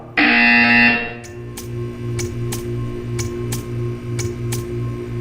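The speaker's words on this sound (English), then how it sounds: "You will hear a buzzer." A loud harsh buzzer in a Portal 2 video game test chamber, one sustained blast just under a second long, followed by a steady ticking and a low mechanical hum.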